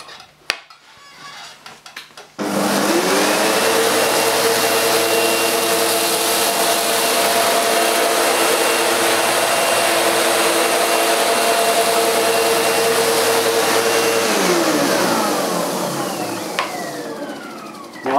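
A Sebo Professional G1 upright vacuum cleaner runs on a hard floor with a loud, steady motor whine that switches on abruptly and holds for about twelve seconds before winding down.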